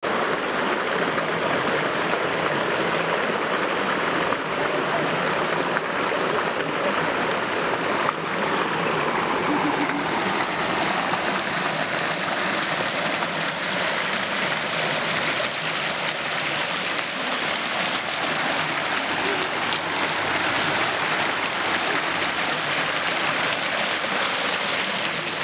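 A river near the Piedra Azul dam at Teotitlán del Valle, Oaxaca, rushes steadily as broadband water noise, constant and fairly close, with no pauses throughout.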